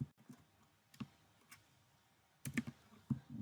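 Light typing on a computer keyboard while coding in PyCharm, with scattered soft key clicks followed by a quick cluster of taps near the end, faint and close in a quiet room.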